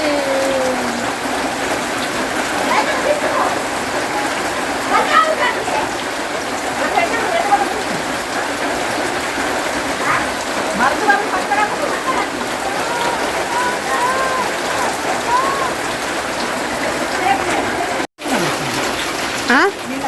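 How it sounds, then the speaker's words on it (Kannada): Heavy monsoon rain falls steadily on a home in coastal Karnataka, a dense, continuous hiss and patter that stays loud and even for about twenty seconds, with faint voices underneath. "ಮಳೆ ಮಳೆ ಮಳೆ"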